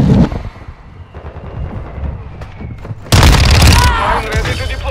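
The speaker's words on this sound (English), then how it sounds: "Hostiles launched a mortar strike." Mortar strike explosions in Call of Duty MWII team deathmatch, a faint boom early, then a loud, heavy blast with rumbling gunfire mixed in, partly under game voice lines.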